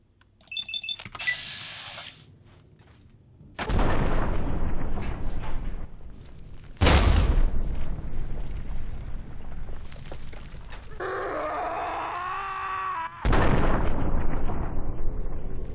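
Grenades explode in Fallout 3: three loud, sharp blasts spaced several seconds apart, each leaving a rumbling tail. Quieter clicks and game sounds fill the gaps between them.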